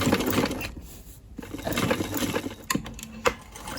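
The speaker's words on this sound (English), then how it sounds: "Now I understitch." A sewing machine runs in short stretches while understitching the lining of a skirt waistband, a quiet whirring hum broken by a brief pause and a small clack near the end.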